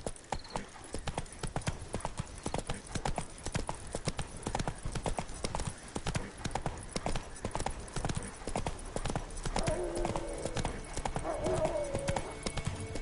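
Roach the horse galloping in The Witcher 3: Wild Hunt, a steady rapid run of hoof clip-clops that continues throughout, with a faint whinny-like tone near the end.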